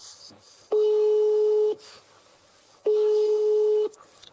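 Two long steady telephone busy tones sound after a call is hung up, each about a second long with a pause between, loud and clear over faint background noise.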